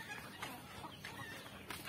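Native chickens clucking in short, scattered bursts from a few birds at moderate distance, over a soft farmyard background with no talk.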